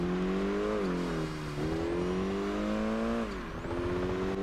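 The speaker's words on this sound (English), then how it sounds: "Listen to that turbo, though." A video game car engine in Project Gotham Racing 4 drones and revs continuously, pitch rising and dropping with gear changes, a steady mechanical hum with a faint turbo whine.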